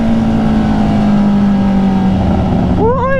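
A Honda CB650R E-Clutch motorcycle engine holds a loud, steady high-RPM tone close by, then dips and wavers near the end as a voice cuts in.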